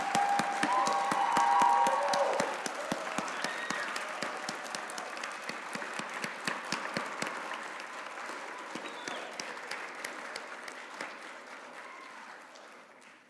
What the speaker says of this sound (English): Please join me in another round of applause for all of our graduates.